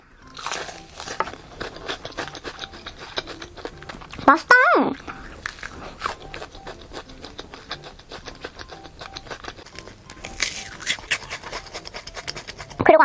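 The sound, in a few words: biting into a crispy crouton-coated sausage bread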